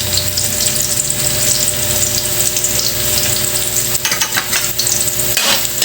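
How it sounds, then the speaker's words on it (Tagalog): Onion and garlic sizzle and fry in a pan as the sauté base for Ilocano-style igado, a steady continuous hiss with stirring scrapes and clatter near the end, close and loud with no talking. "Naggisa na nga guys ng sibuyas at bawang para sa igado."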